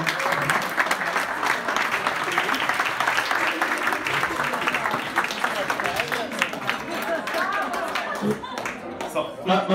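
A live audience applauds for Maria: dense, steady clapping from many hands filling the room throughout, with a few voices mixed in underneath before it thins slightly at the end.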